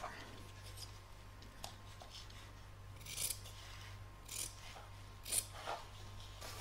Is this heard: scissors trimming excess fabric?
yes